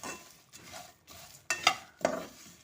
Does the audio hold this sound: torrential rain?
no